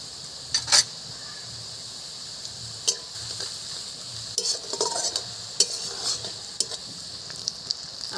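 Fried onions with dried chili powder are stirred in a pan, a soft steady sizzle with scattered sharp scrapes and clinks of a utensil against the metal, close and fairly quiet, with no talking.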